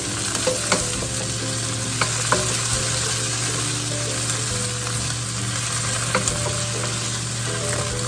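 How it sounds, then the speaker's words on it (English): Tomato paste fries for jollof rice in a pan, giving a steady close sizzle throughout. Intermittent scraping from stirring runs over the sizzle, and no one talks. "So I'm going to fry that off for a couple of minutes"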